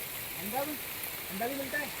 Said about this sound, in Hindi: जहाँ हमने चाय पीनी है उसके नीचे से झरना आ रहा है